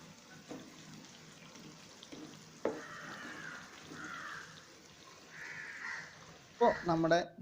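Onion rings fry in a pan of hot oil with a steady low hiss, a few brief clatters as they are turned, and a louder burst of sizzling and clinking near the end.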